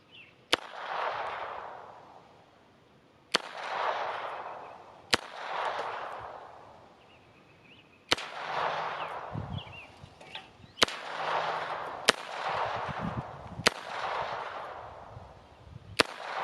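Sharp, loud single gunshots from a Beretta U22 NEOS pistol fired at cans outdoors, spaced a few seconds apart, each crack followed by a long ringing tail that fades before the next shot.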